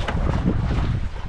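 Strong outdoor wind buffets the microphone in a continuous loud, low rumbling roar with no pauses, with possible water or boat sounds beneath and no talking.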